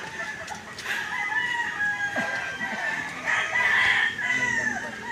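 A rooster crows loudly over steady clucking from several chickens, with a busy farmyard backdrop throughout.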